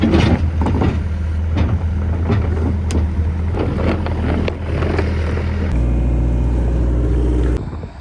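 A farm digger's diesel engine runs loud and close, rumbling unevenly with shifting revs, then settles into a steadier, deeper drone before cutting off near the end.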